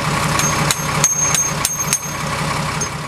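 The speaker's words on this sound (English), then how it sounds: "a drilling machine, several large trucks, and a trencher were put to work today" On the construction site for the U.S. Grand Prix southeast of Austin, a drilling machine, several large trucks and a trencher make a continuous loud engine rumble broken by rhythmic knocking thumps, with no talk.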